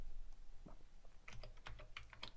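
Keys pressed on a Commodore 64 keyboard, a quiet, close, irregular series of clacks that are sparse at first, then come in a quicker cluster.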